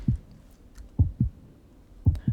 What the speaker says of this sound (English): I have some heartbeat sounds here. I've already designed in Reaper.